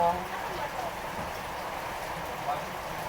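Steady rain hisses in the background while a person speaks over it.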